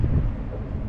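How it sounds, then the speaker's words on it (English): Strong wind on Kentucky Lake buffets the microphone in a low, rumbling roar that blusters unevenly with no other sounds. "Really windy."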